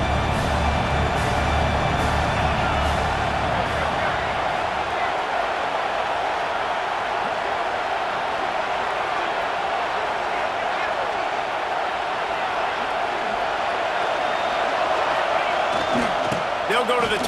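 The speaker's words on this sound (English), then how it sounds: "This crowd knows when to bring it." Steady, dense stadium crowd roar from the video game College Football 26, loud and sustained throughout, with a brief burst of cheering near the end.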